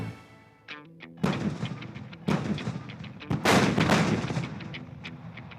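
Consumer fireworks in a radio advertisement for a fireworks shop, a run of sharp loud bangs and crackling bursts after a short musical lead-in, with booms overlapping densely toward the end.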